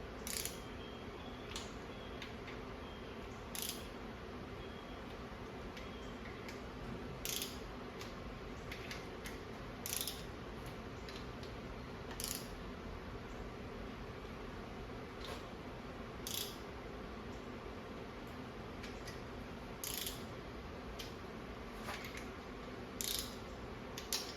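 A torque wrench clicks sharply as cylinder head bolts are tightened on E-Street heads for a 512 stroker engine. The clicks come at irregular intervals of one to two seconds, close and distinct, over a steady background hum.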